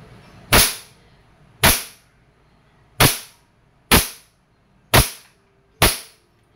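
A KWC 75 Competition airsoft pistol fires six sharp, loud snapping shots at steady intervals of about a second, each a crisp close crack with a quick decay and quiet gaps between.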